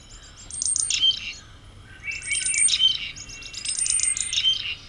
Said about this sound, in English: Here's the gargle call.